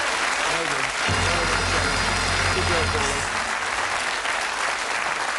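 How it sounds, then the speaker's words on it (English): Studio audience applause at a TV game show: sustained, loud clapping from a crowd that swells and then fades after a couple of seconds, with a voice speaking over it. "Give them a nice encouraging round of applause."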